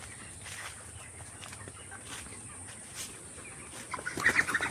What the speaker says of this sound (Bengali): এই যে আমাদের দেখে চলে যাচ্ছে মুরগিগুলো।